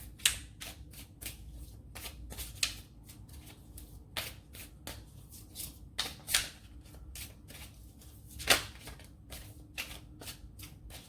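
Tarot cards shuffled by hand in a quiet room, a steady run of soft riffling and slapping bursts with a few sharper card snaps, close and fairly faint, with no talking.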